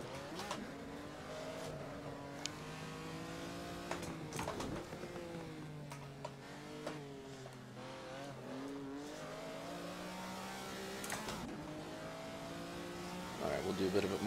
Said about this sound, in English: These vintage cars are so fun to drive because you really kind of have to have these very small slip angle slides to make them turn.